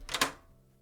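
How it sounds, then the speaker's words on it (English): A door swinging open after a knock, heard as a brief close clatter of the latch and handle with a short rattle, then fading quickly into near silence. "A moment passes before the door opens."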